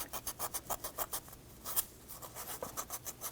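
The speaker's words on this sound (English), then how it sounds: "stick some sandpaper or emery cloth and get both sides" Sandpaper scrubbing rust off a Jeep Wrangler starter cable terminal, a quick rhythmic back-and-forth rasp of about a dozen strokes, close and fairly soft.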